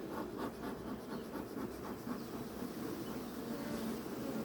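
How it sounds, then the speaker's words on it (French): Many bees hum and buzz densely around an opened beehive, a close, continuous insect drone with faint scratching and rubbing underneath and no voices. "Beaucoup d'abeilles, raisonnablement."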